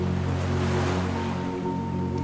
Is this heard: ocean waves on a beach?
yes